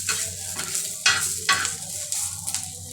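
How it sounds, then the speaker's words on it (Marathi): Green chili pieces roasting in a pan for a rustic mutton curry masala, a steady close sizzle broken by several sharp scraping stirs at irregular intervals. "2-3 हिरवी मिरच्यांचे तुकडे करून तिला भाजून घ्यायचे"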